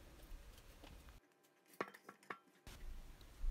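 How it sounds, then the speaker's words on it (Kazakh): A knife chopping tomato on a board for a salad, a few quiet separate cuts, including two crisp taps in the middle, set against light room noise. "Қызанақты ортасынан дәл осылай турап, дәл осылай видеодағыдай ұзыннан турап салатын боламыз."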